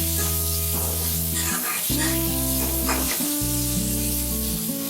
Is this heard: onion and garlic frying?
yes